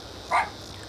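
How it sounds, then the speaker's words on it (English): A single short dog bark, moderately loud over a steady background hum from a farming game session. "As my dog is barking at something strange"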